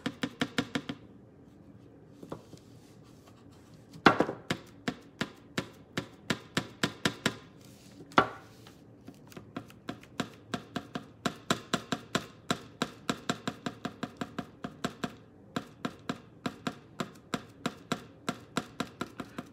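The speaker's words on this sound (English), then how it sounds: "Y'all hear my little clip touching the table." A small clip taps against a table in sharp, close clicks, first sparse and irregular, then in quick rhythmic runs over a quiet room background.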